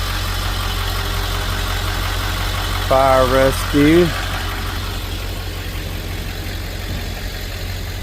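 A fire engine idles steadily at a car crash scene, a continuous low rumble running through the whole stretch while a brief radio-like voice cuts in near the middle.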